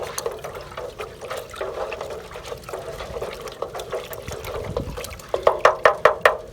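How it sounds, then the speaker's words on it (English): IV Organic 6MacrosPlus organic fertilizer being stirred into a container of water: continuous swishing and sloshing near the mic, turning into quicker rhythmic splashing strokes at the end. "now we're simply going to stir that in"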